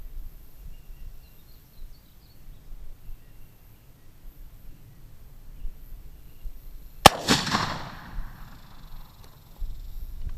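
A single sharp shot from a Traditions Hawken Woodsman .50 muzzleloading rifle cracks out loud and close after several seconds of quiet outdoor ambience, followed by a brief fading rumble.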